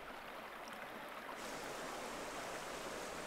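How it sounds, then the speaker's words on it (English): A river flows over basalt on the slopes of Etna in Sicily, producing a continuous broadband rush of running water that grows slightly fuller and louder partway through. "The river continues to flow towards the Sicilian coast, cutting increasingly deep into the basalt."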